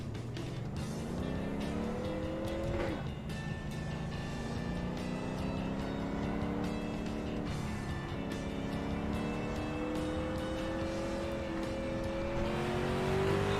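NASCAR stock car engine on a short track in the iRacing sim, a loud steady drone that climbs in pitch through upshifts and dips before rising again, with no talk over it.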